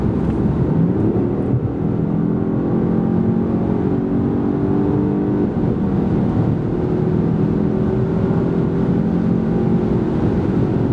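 Peugeot 308 GT 1.2 hybrid (145 hp) accelerating from 90 to 140 km/h, a steady interior engine and road drone that climbs gradually in pitch, alone without talk.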